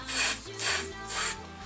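A person imitates feet dragging while walking, making three rhythmic rasping, scuffing sounds with the voice, close and fairly quiet.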